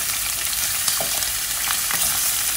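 Garlic, onion and belacan sautéing in a pan for cauliflower fried rice, with a steady close sizzle and a few light stirring scrapes, no talk.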